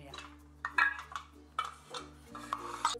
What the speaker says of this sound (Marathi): तोपर्यंत आपण जे इडलीचे भांडे आहेत खाळे आहेत त्यांना तेल लावून घेऊया.